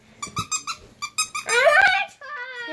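A puppy squeaky toy squeezed in a quick series of close, high squeaks, followed by children's excited vocalizing and squeals over the final squeaks.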